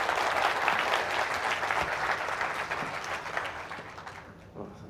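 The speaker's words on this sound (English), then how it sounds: "Can I get a round of applause for that?" An audience at a talk on resilience and goals gives a round of applause, a dense, steady wash of many hands clapping that holds for most of the stretch, then thins and fades near the end.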